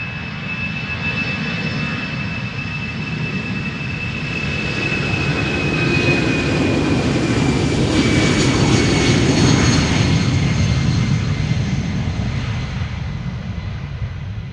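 An easyJet Airbus A319 takes off at Amsterdam Schiphol Airport with a loud, sustained jet engine roar that swells and peaks as it passes close by, then a steady rumble with a high whine across it.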